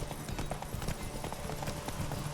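Geralt's horse Roach galloping in The Witcher 3, a steady rapid clip-clop of hooves over a dense, continuous game soundscape, with no speech.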